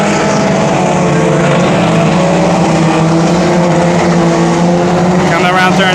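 Hornet-class race cars roar around the oval at Brownstown Speedway, loud sustained engine howl with shifting pitch as cars chase each other through turns three and four, under a continuous announcer's commentary.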